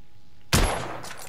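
A single sharp rifle shot from the video game The Order: 1886 cracks out close and loud after a quiet pause, then tails off in a brief echo.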